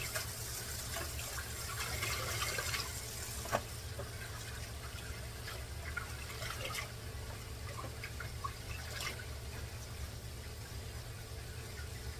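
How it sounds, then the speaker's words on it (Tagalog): Tap water running steadily over fish being washed, a constant close rush with occasional splashes and clinks, moderately loud with a low hum underneath and no talking. "kaya kailangan linisin, hugasan ng mabuti"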